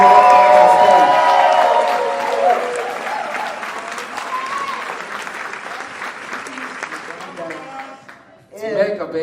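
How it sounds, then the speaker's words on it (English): A big round of applause with cheering from an audience at a hip-hop event as a guest walks on stage, loud at first then tapering off, with voices coming in at the end. "please give a big round of applause"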